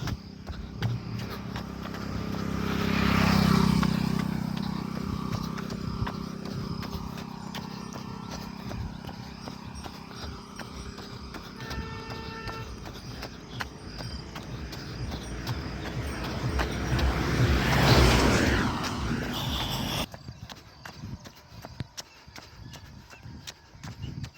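Farm bullocks walk along a rural road in the rainy season, their hooves clopping in a steady unhurried rhythm that swells nearer twice and fades, with a faint low rumble beneath.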